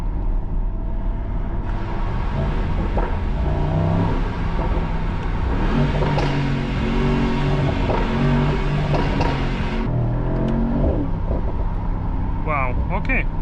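A 2025 Mercedes-AMG SL 63 drops to second gear and accelerates hard, its engine rising loud and steady for several seconds under close cabin noise, with speech-like voice traces mixed in.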